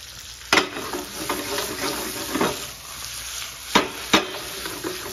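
Garlic tossed into a hot pan of olive oil, stirred with a few sharp clatters of the utensil over a steady close sizzle, with no voices.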